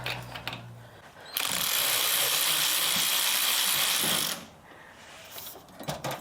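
10mm socket on a ratchet or driver removing panel bolts on a McLaren 570S, one steady whirring-buzzing burst of about three seconds up close, with quieter handling noises before and after.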